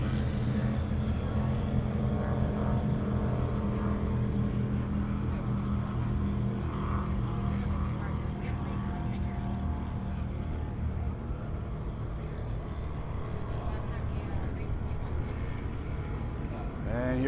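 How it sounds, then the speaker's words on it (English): A twin outboard Class 5 racing powerboat at a lake grand prix roars steadily with a loud, continuous engine drone throughout, heavy and sustained from start to finish. "And here comes our twin outboard Class 5 entry, bringing up the rear."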